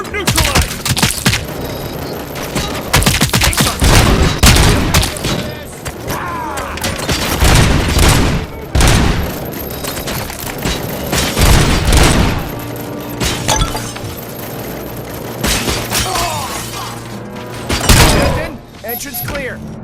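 Dense, loud gunfire from the RoboCop: Rogue City video game during an assault on the OCP bank, with rapid bursts, shattering glass and booms running continuously for twenty seconds, shouted voices mixed in.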